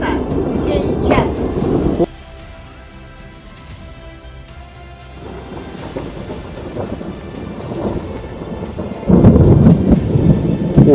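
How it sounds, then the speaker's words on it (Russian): Loud low rumbling of thunder ahead of an approaching summer rainstorm during a heatwave, rolling on and off across the clip with a quieter lull in the middle and a strong renewed roll near the end. "Это хорошо гремит. Сейчас дождь начнется."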